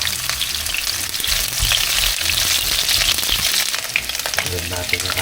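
Onions fry in a hot pan for chicken arroz caldo, giving a loud, steady sizzle that fills the whole stretch. Occasional stirring scrapes cut through the hiss, and there is no talking.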